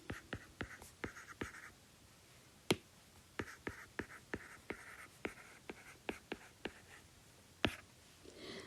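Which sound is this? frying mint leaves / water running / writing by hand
writing by hand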